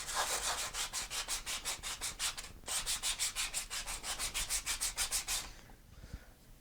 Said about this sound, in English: I'm going to take a sanding block, clean that up, take off those just slight corners there